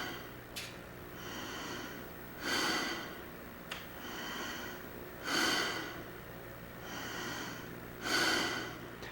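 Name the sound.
relaxed breathing in and out through a tube held between teeth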